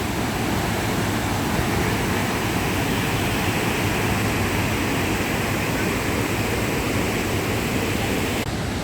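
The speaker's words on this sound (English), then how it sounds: "That's probably one of the best view of Kravisa waterfall in Serbia" Kravica waterfall in Serbia gives a steady, dense roar of falling water, loud and unbroken throughout with no pauses or distinct events.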